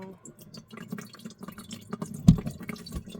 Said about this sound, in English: it is draining, but it looks like it's still leaking a little bit.